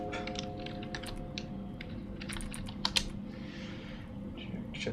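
Keys clatter steadily on a computer terminal in the video game Fears To Fathom: Ironbark Lookout, with irregular close clicks and a couple of sharper taps over a low constant electrical hum.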